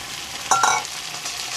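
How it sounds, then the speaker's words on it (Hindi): Mutton liver sizzling in a pan with golden brown onions, a steady broadband fry with a louder burst of stirring and scraping midway, close and alone without voices. "इसको तकरीबन हम 2 मिनट के लिए हल्का फ्राई करेंगे"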